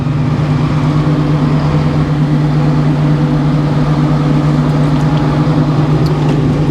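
A bus motor running at a sawmill before oak logs are sawn with a new sawblade, giving a loud, steady engine drone with a strong low hum that holds unbroken throughout.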